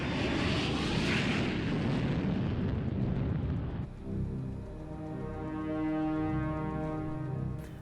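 Airplane engine from the film Money Plane: a loud, steady broadband roar for about four seconds, then a sustained droning engine hum with steady tonal harmonics continuing to the end.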